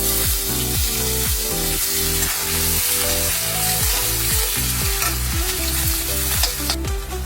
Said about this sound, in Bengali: এখানে একটা বড় সাইজের পেঁয়াজ একটা কেটে এর মধ্যে দিয়ে দিলাম